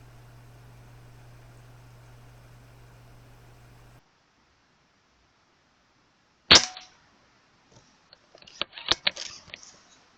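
A single sharp air rifle shot from a Daystate Huntsman Revere fired at a squirrel in a tree, a crisp close crack after a quiet pause, followed by a brief flurry of faint rustling and clicks.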